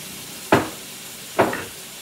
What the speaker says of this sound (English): We're gonna let these sear